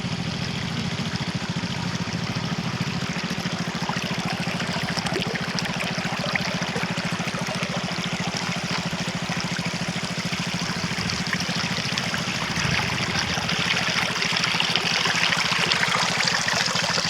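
Water running steadily from a village wind pump outdoors. The flow is a continuous, even gush and trickle that holds for the whole stretch, with no voices.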